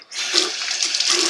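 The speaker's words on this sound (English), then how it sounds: "Finally, rinse out any excess," Tap water runs into a bathroom sink to rinse out baking soda paste, a close, steady hissing splash that starts suddenly and keeps flowing evenly.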